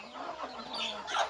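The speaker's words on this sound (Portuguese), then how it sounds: "Alimentando as galinhas, né?" Chickens being fed cluck up close in short, irregular bursts, a few overlapping calls rising in excitement toward the end.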